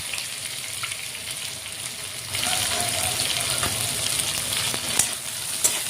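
Spice masala with garlic paste sizzling and frying in a pan for a fish-head curry, a steady crackling hiss that grows louder midway, with occasional stirring clicks close by.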